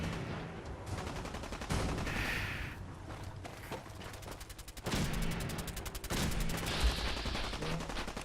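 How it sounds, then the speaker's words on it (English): Video game gunfire in rapid repeated bursts, loud and continuous across the stretch, with short pauses between volleys and dense game noise around it. "What is he shooting?"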